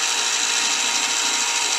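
A motorized mash stirrer drones steadily in a brew-in-a-bag brewing pot, a constant close whirring motor hum with no pauses.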